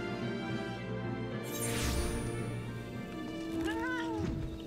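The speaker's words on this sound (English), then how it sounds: "Meow." A cat meows in the video game FFXIV, a couple of rising and falling cries near the end over continuous game music and ambience.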